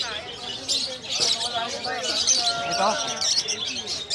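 Caged pet birds, including budgerigars, chirp and tweet at a bird market in Malabon. A busy chatter of small bird calls goes on steadily under someone talking nearby.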